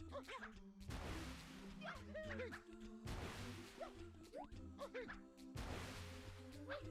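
Watermelons smashed with a bat in a video game, three heavy crashing bursts spaced a couple of seconds apart amid game music and chiming effects.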